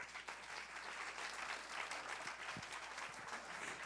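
A church congregation claps together in a sustained burst of applause, fairly faint and steady throughout.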